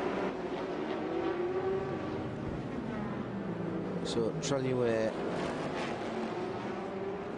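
Prototype race cars at the Sebring 12 Hours endurance race sweep past, engine notes rising and falling as they go by under a commentator's steady talk, with one sharp burst of passing cars midway.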